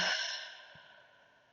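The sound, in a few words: deep exhale during breathing exercise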